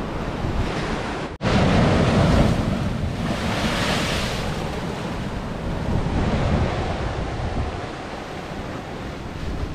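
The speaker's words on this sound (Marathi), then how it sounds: "तुम्ही बघू शकता लाटा किती जोरात आहेत, म्हणजे वारा किती जोरात असेल तुम्ही अंदाज लावू शकता." Rough sea surf pounds the shore at Vengurla beach while strong wind buffets the microphone, a loud, continuous roar with surging waves and gusty rumble.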